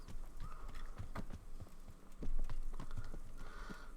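Horse hooves clip-clop in a steady walking rhythm in the medieval game Kingdom Come: Deliverance, with close, distinct hoof strikes over a low background hum.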